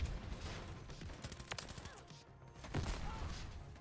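AMR9 submachine gun in Call of Duty: Modern Warfare III, set up as an LMG-style build with a 100-round magazine and fired from the hip. It rattles in dense, sustained bursts amid busy game noise, with a louder surge near the end.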